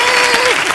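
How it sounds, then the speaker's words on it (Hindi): Applause from a studio audience for a children's dance performance on a comedy TV show, steady clapping filling the whole moment at close range. "जोरदार तालियां यार बच्चों के लिए"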